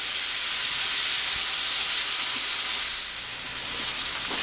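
Turkey chops fry in a pan with a loud, steady, close sizzle like a constant hiss, unbroken for the whole stretch and with no voices.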